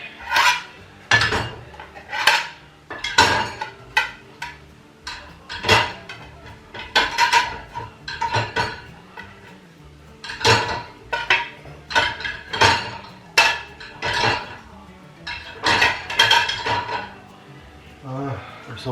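Dishes, pots and cutlery clatter and clink over and over while someone washes up at a family home sink, with irregular, close-up knocks and scrapes continuing throughout and no one speaking.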